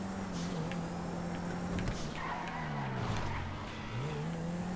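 Race car engines hum steadily with tones that rise and fall as the cars drive past at moderate distance, a continuous mechanical drone with no voices.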